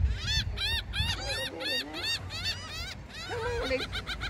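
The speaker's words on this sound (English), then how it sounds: "Look at all these seagulls, y'all." Seagulls at a beach give a rapid series of nasal, laughing calls, several birds squawking close by in quick overlapping bursts, fairly faint overall.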